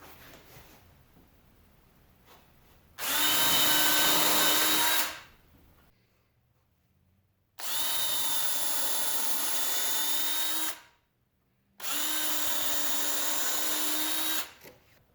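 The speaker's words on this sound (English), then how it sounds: "I'm going to go through and drill 2 pallet holes on each 2x4" Power drill boring pilot holes into 2x4 boards for a garage workbench, three loud close bursts of whining drilling, about two seconds, three seconds and two and a half seconds long, separated by quiet pauses.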